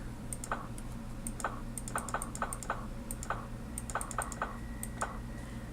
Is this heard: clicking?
yes